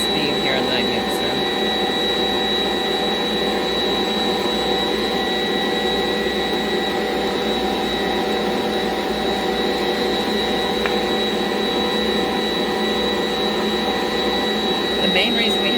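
Stand mixer kneading bread dough for rolls at a higher speed, a loud steady motor whir and grinding hum that runs unbroken throughout, close up.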